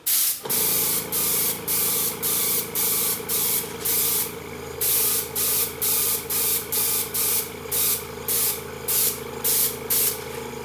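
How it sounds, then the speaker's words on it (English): An airbrush lays a light coat of Enduramark, a steady close hiss with an underlying compressor hum, broken into a long run of short regular bursts as the trigger is pressed and released. "So we're going to turn on our airbrush, and I'm just going to lightly coat"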